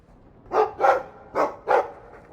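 A dog in the video game Dragon Age 2 barks four times, sharp and close, in two quick pairs with a short pause between them, against a quiet background.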